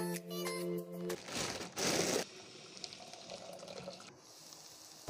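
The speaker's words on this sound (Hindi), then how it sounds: "जितने मटर आपको चाहिए उतने बर्तन में निकाल के थोड़ा सा गर्म पानी डाल के एक मिनट के लिए रख दें" Warm water poured from a kettle or tap over frozen peas in a metal pot, a short splashing pour followed by a softer trickle and faint clatter, fairly quiet with no voices.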